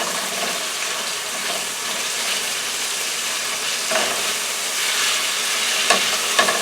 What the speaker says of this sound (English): our chicken and peppers and onions has been cooking for about 3 minutes, 3 or 4 minutes, with a cover on it